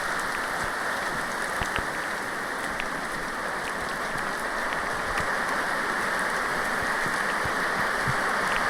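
Steady rain falls on surfaces in a rural setting, a dense, even hiss of drops with scattered louder patters, constant throughout with no talk.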